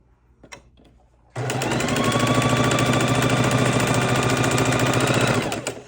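Sewing machine chain stitching pieced quilt blocks with quarter-inch seams: after a few faint handling clicks, a loud steady mechanical whir with rapid needle rhythm runs for several seconds, then stops.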